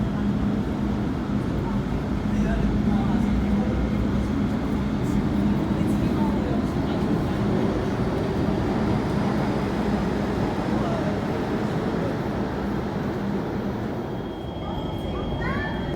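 A metro train pulls into a station platform at Yau Tong, a sustained low rumble and rolling roar that builds and fills the space, with a brief higher squeal near the end as it stops.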